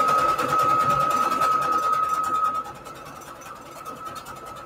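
A sewing machine runs fast, stitching fabric onto index cards in a close, steady rapid rhythm with a whining motor tone. Midway the machine quiets and slows, leaving softer mechanical ticking.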